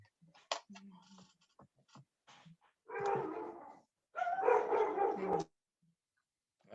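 Dogs bark in the distance, a few scattered yips followed by two longer bursts of overlapping barking, faint and alone with no talk.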